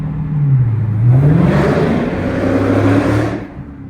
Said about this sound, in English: got a little bit of that exhaust note for you through here